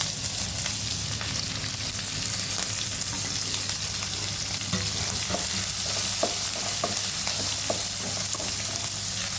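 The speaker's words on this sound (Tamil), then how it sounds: "இது ஓரளவுக்கு வதங்கி வரட்டும்." Onion, ginger, green chili and curry leaves sauté in a hot pan with a constant sizzle, broken by scraping taps as the mixture is stirred.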